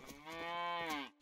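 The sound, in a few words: cows mooing in the video game Medieval Dynasty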